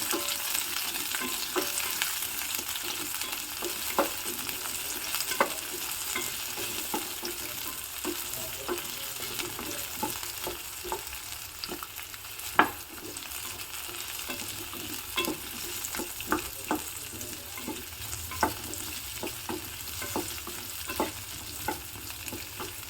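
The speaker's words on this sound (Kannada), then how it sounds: "ಒಂದು ಮೀಡಿಯಂ ಸೈಜಿನ ಈರುಳ್ಳಿಯನ್ನು ಸ್ವಲ್ಪ ದೊಡ್ಡ ದೊಡ್ಡದಾಗಿ ಕಟ್ ಮಾಡಿಕೊಂಡು ಹಾಕ್ತಾ ಇದ್ದೀನಿ" Medium onion pieces cut fairly large fry in a pan with a soft, continuous sizzle, broken by frequent light clicks and taps as they are stirred, heard close and with no talking.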